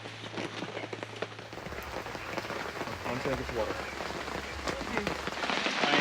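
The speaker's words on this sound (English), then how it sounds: "Just running from the rain." Rain patters steadily on a hard surface nearby, a dense continuous spatter that grows slightly louder toward the end.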